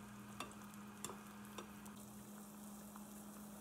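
Skinless longganisa sausages sizzle steadily in a pan as their sugar caramelizes and browns, a soft continuous frying hiss with a few faint stirring clicks.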